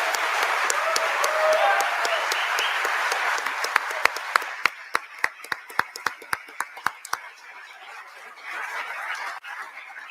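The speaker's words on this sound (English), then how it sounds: "One more round of applause, please." An audience applauds at the close of a national security debate, a dense burst of clapping that thins into scattered individual claps and fades, with light background murmur afterward.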